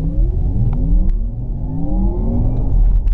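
A Porsche Taycan Cross Turismo electric wagon launches under launch control, a steady loud whirring drive with rising whine tones and road rumble throughout, no voices.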